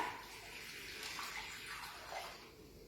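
Coloured water, tinted with food colouring or paint, pours into a Ziploc bag, a steady soft trickling and splashing that runs quietly for a few seconds with no talk.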